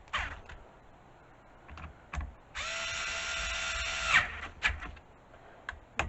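A power driver whirs steadily for about a second and a half, tightening screws on a Ryobi pull cord assembly during an electric start repair. Scattered clicks and handling knocks come before and after, close by.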